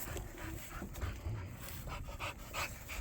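A dog pants in steady quick breaths close by, with faint whimpers mixed in, against a low background rumble in a motorcycle garage.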